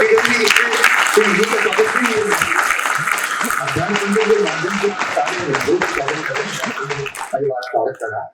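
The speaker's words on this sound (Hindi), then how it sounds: "तालियां आपकी बढ़ती रहेंगी" At a summer lecture-series event, the audience applauds loudly for several seconds while a voice speaks over the clapping, which then stops abruptly.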